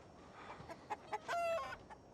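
Chickens on a chicken farm in a scene from the Fallout TV series give faint, scattered clucks, followed by a short, drawn-out crow-like call over a quiet background.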